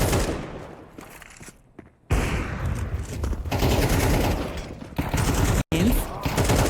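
Rapid gunfire from M4 rifles and pistols in a Counter-Strike match on the Anubis map, dense close bursts of shots with brief pauses, under a fast-talking esports commentator.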